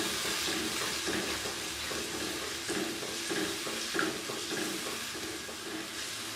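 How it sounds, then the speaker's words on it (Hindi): Masala with whisked yogurt for bhindi salan being stirred and fried in a pan, a continuous close sizzle with steady scraping of a spoon throughout. "हम इसको चम्मच चला के अच्छे से भुनाई कर लेंगे।"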